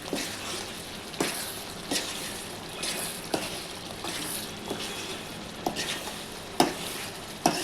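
Raw prawn curry fries in a pan with a soft, constant sizzle. A spoon scrapes and knocks against the pan at irregular intervals, each stir a short, distinct clatter. No one talks.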